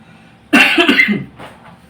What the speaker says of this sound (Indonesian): mohon maaf agak batuk dikit ya teman-teman